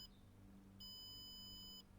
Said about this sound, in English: it's just a single set of beeps and then go after the last beep